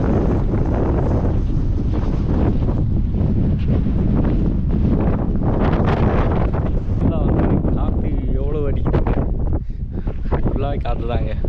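Strong wind buffets the microphone on an open roadside spot during a road trip, a loud continuous roar with a voice briefly audible toward the end.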